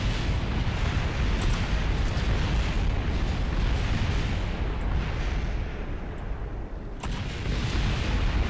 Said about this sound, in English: Parts of it are now exploding due to the heat.